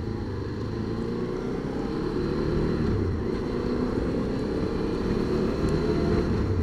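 A QJ Motors SVT 650X motorcycle runs steadily while being ridden, a continuous low engine drone with wind rush, moderately close and unbroken throughout.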